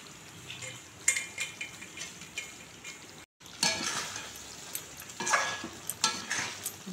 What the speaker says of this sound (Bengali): এখন আমি বেটে রাখা পোস্তটা দিয়ে দিচ্ছি চিকেনের মধ্যে।